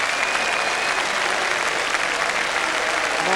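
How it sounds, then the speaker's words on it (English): Warm applause ripples around the ground at a UEFA Cup football match between Spurs and Bayern Munich as a substitute comes on, a dense, steady, even wash of distant stadium clapping throughout. "And warm applause around the ground for Ali Dick."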